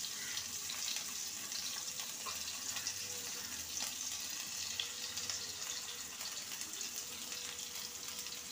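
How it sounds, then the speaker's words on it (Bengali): Snake gourd stuffed with egg paste fries in a pan, giving a steady, even hiss throughout that stays fairly quiet, with no talk. "এবারে একটা পিঠ হালকা করে ভাজা হয়েছে"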